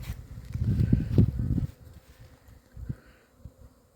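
Honeybees buzzing around beehives during an orientation flight, a close, loud droning hum for about a second and a half that fades to faint scattered buzzes as single bees fly past.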